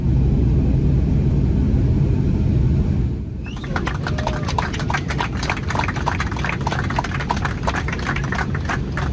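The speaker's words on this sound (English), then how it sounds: "The sound of success for Porter, its first ever jet takeoff." A Porter Airlines jet airliner on its first jet takeoff from Toronto Pearson Airport: a loud, steady engine roar and rumble with a dense crackling texture running throughout, heard without talk.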